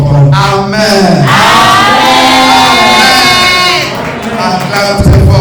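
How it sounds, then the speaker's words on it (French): A church congregation cheers and shouts loudly, a dense roar of raised voices and whoops rising and holding for several seconds before easing slightly. "Acclame très fort pour Jésus."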